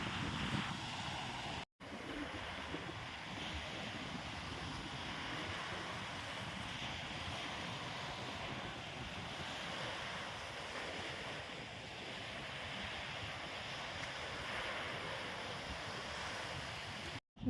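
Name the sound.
strong wind at beach campsite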